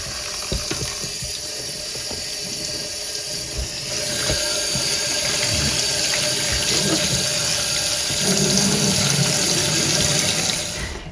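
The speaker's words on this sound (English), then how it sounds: "It's going to take a little while to completely rinse all this dye out." Tap water runs steadily into a sink while dyed cotton fabric is rinsed, the flow splashing and gurgling at close range and growing slightly louder and fuller partway through.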